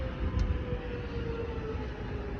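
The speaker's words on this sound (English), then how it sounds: "another train from the city." A train pulls into Glen Waverley station with a steady, loud rumble and a faint high whine, heard close and continuously without talk.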